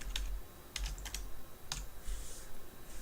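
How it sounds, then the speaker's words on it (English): Typing on a computer keyboard during an app tutorial, a few quiet close key clicks in short bursts separated by pauses. "I will just type primate,"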